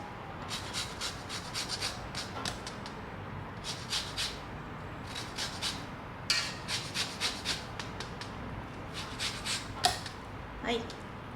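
An orange is grated for baking zest, giving quick repeated rasping strokes in short bursts, moderately close and fairly quiet, with occasional small knocks.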